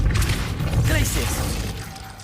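A Glacius freezing spell is cast in Hogwarts Legacy, giving a continuous crackling, shattering rush with metallic ratcheting bits over a low rumble, loud and close for a couple of seconds.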